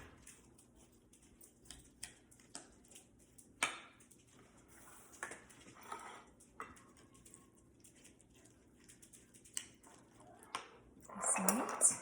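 Utensils mixing food in a bowl during a cooking demo: quiet, scattered clinks and taps of metal against the bowl, irregular and close, with a brief scraping swirl near the end; no talking.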